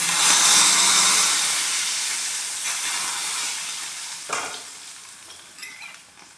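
Hot smoking oil poured over onions for a water spinach salad, a loud burst of hissing sizzle that slowly fades, with a few clinks near the end.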